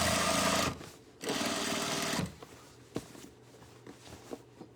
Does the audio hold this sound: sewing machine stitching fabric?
yes